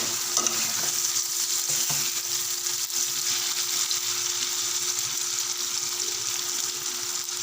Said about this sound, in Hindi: अब हम इसकी अच्छे से भुनाई करेंगे ताकि जो पीसेस हमें टमाटर के नज़र आ रहे हैं वो भी इसमें अच्छे से घुल जाएं।